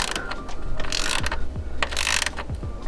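A ratchet wrench tightens valve cover bolts on a 1JZ engine, giving rapid clicking pawl strokes in close, busy bursts with small metallic knocks, a short pause between swings, no voices.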